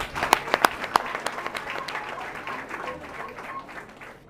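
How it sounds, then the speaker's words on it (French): Applause breaks out at a civil wedding ceremony, starting with a few sharp claps that swell into a moderate round of clapping from a small gathering, slowly fading, with voices murmuring underneath. "Applaudissements."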